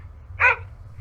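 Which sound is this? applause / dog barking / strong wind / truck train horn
dog barking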